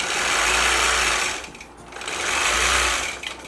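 A sewing machine stitching a whole cloth quilt runs in two loud, steady bursts, briefly easing off between them, close up and without any voices.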